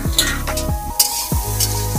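Ginger paste frying with potatoes and chilli in a pan, a steady close sizzle with several sharp scraping stirs of a spatula against the pan at a regular pace.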